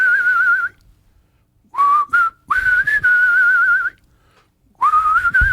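A solo whistler carries the melody of a song in clear, close phrases broken by short pauses, pitch gliding between notes with no speech.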